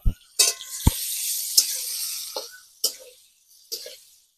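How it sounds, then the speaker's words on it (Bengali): Potatoes and soybean chunks sizzle in a pan as they are stirred, bursts of hissing frying with sharp scraping knocks of a spatula, separated by quieter gaps. "আলুগুলো ভালো করে নেড়ে নেবো আমি সোয়াবিনের সাথে"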